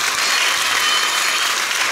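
A crowd at a spiritual retreat in Tiltepec, Nopala, gives a man strong, dense applause that stays loud and steady throughout.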